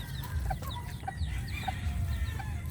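Chickens and chicks cluck and peep while feeding on a farm. High chick cheeps repeat about every half second over a low, steady bed of clucking, close and fairly constant.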